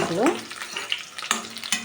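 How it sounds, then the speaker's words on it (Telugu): Sliced onion, green chilies and curry leaves sizzle and spit in hot oil as a tempering for brinjal curry, making a brief burst of close crackling with a couple of stirring clinks, with no speech. "పోపు కాగింది ఉల్లిపాయ మిర్చి కరివేపాకు పోపు"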